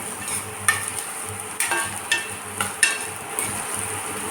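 Potatoes and finely chopped onion being stirred in a frying pan for soya chunks fried rice, with a steady sizzle and several sharp scraping strokes of the spatula against the pan, close and moderately loud, no talking.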